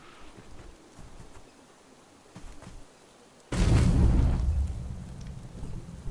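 Fire ignites by magic in the Ikenfell video game, a sudden loud whooshing burst halfway through that settles into a steady crackling rumble after quiet ambience.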